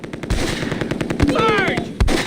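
Rapid bursts of automatic gunfire and single shots from the PC war game Close Combat, loud and continuous, with whistling ricochet-like tones midway and a faint voice underneath.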